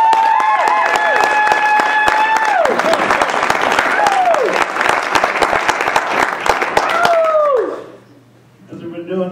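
A comedy club audience applauds loudly and cheers as a comedian takes the stage, sustained clapping that fades out near the end as he begins talking; a voice speaks over the start.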